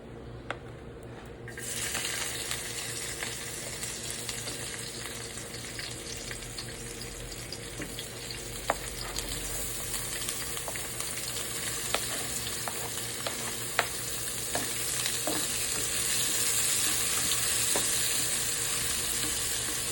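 Clams sautéed in olive oil with garlic, onion, ginger and tomato, a steady, moderate sizzle with small clicks and scrapes running for twenty seconds, slightly rising toward the end, with a low background hum and no speech.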